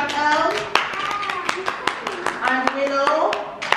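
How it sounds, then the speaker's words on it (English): Year 2 children clapping at a British Science Week school quiz, a scattering of sharp, uneven claps under a voice and an adult speaking, close and lively. "Can we clap?"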